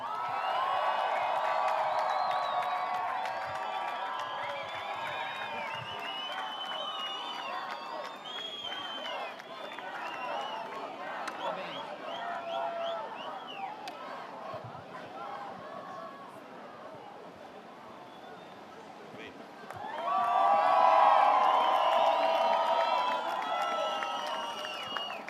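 A beach crowd at a pro surfing finals in Saquarema, Brazil, cheers and applauds Brazilian surfer Iago Dora, with a steady hubbub that swells louder near the end, mixed with an announcer's talk.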